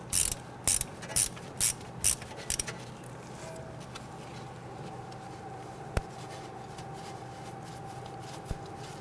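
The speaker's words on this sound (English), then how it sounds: "this is just our 1/4-inch ratchet. I'm going to loosen it and remove this bolt." A quarter-inch ratchet clicks in about six quick bursts as a bolt is loosened on a 2010-2019 Ford Taurus wheel hub assembly, then a quiet stretch with two sharp metallic taps.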